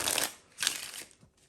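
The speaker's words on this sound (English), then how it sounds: "So you can shuffle them in" A deck of playing cards is shuffled close up during a card trick, giving two quick riffling bursts, the second a little longer, followed by a faint trailing rustle.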